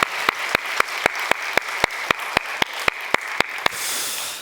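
Church congregation clapping together during a Korean worship service, about fifteen sharp, evenly spaced claps in steady rhythm, then a brief burst of looser applause at the end.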